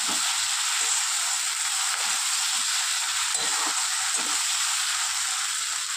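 Ginger garlic paste sautés in hot oil in a pan alongside fried ilish fish for a mustard-oil curry, giving a steady, loud, continuous sizzle and frying hiss with faint stirring scrapes and no voices.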